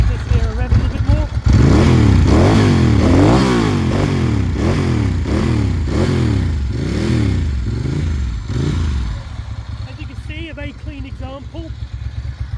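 A 1990 Ducati 851 Superbike with carbon silencers revs repeatedly up close. Its loud engine swells and falls in a steady rhythm of blips, then settles back to a lumpy idle.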